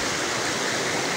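Steady rushing water from a river, a broad continuous wash with no gaps, moderately loud and close, heard alone without voices.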